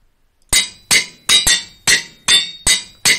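Redstone is added as a Tinkers tool modifier in Minecraft, producing seven bright, metallic clinks in quick, slightly uneven succession, each ringing briefly before the next.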